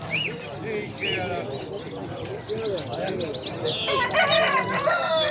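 Many chickens cluck and squawk nearby while a rooster crows, with people talking in a busy, noisy poultry market in Edirnekapı.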